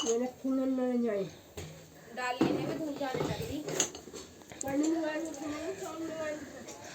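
Dishes and pots clatter and clink as they are pulled out during a household cleanup. The bursts of knocking come in the middle of the clip, close by, under ongoing talk from people in the room.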